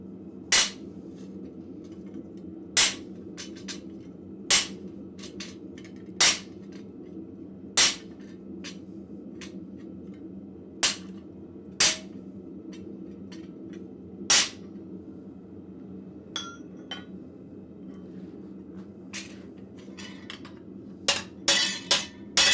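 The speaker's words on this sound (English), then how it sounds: "I'm using a cold chisel, so working this cold is not that big of a deal" A cold chisel struck with a hammer through cold steel in a blacksmith forge gives sharp metallic strikes spaced a few seconds apart, ringing over a steady low shop hum, then a quick flurry of blows at the end.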